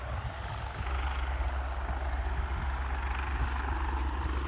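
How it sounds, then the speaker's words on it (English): A helicopter at Aberdeen airport rumbles steadily at a distance, its low engine drone constant as it begins to creep forward, with no voices. "now that helicopter is starting to move just a little bit."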